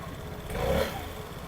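A Vespa scooter engine, under check for a charging fault with a new battery, revs up briefly and then eases off, a close steady engine drone swelling to a peak midway before settling back.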